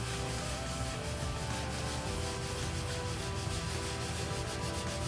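Fiberglass rubbing compound being rubbed off a floor, a steady, dense scrubbing friction noise that holds constant and close without pause throughout.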